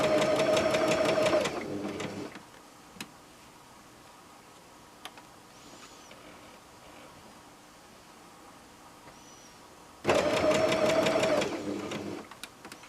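Two short bursts of a sewing machine stitching a messenger style shoulder bag, each a loud rapid whirr at the start and end, separated by a long quiet stretch with faint handling sounds.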